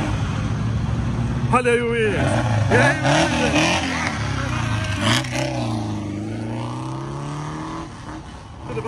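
Cars pulling away from a Volkswagen enthusiasts' event on a highway in Brazil, engines revving and passing nearby in a busy stretch, with people talking over the traffic throughout.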